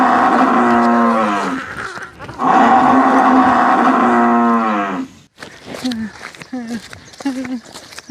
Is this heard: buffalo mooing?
yes